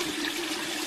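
Water pours steadily into the filter chamber of an aquaponics system. It makes a continuous, even rushing and trickling wash with no pauses and no talking.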